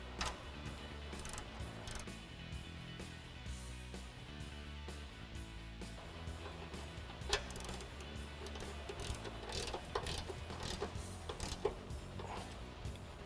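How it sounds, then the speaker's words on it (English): A ratchet with an 18mm socket tightens the outside bolts of a Smittybilt XRC Gen2 rear bumper on a Jeep Wrangler JK, giving quiet, steady clicking with occasional sharper knocks throughout. "we're going to go ahead and tighten the outside bolts using that same 18mm socket"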